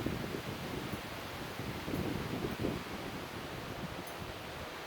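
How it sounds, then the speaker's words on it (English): Wind blowing steadily across the water while kayaking outdoors, a broad rushing noise with gusty swells and buffeting on the microphone, continuous and fairly loud, no voices. "You can hear the wind now."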